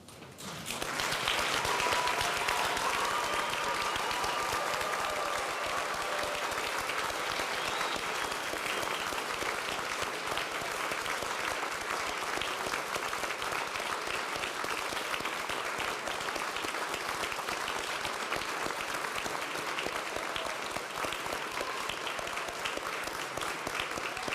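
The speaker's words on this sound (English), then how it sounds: "invite the audience to rise and offer the entire graduating class a round of applause" Sustained applause from a standing audience at a university convocation ceremony at Saint Mary's University in Halifax, honouring the graduating class: dense, even clapping from a large crowd that starts almost at once and holds steady for over twenty seconds.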